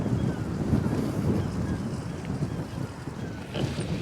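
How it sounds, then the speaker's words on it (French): Strong sea wind gusts across the Royal Portrush links course, a heavy roaring buffet against the microphone with waves faintly underneath, continuous and close. "au large le vent vient fort de la mer vraiment"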